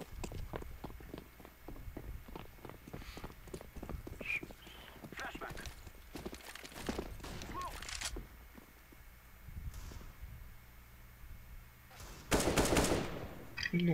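Bursts of rapid gunfire from a CS GO match, quick cracking volleys and single shots at a moderate distance, with footsteps and a louder burst near the end.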